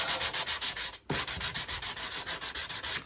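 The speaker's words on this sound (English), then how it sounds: "Just clean it up a bit. A bit of sandpaper." Sandpaper rubs over the wood of a homemade cigar box guitar in quick back-and-forth strokes, about twenty close, steady scrapes with one brief pause near the start, no voices.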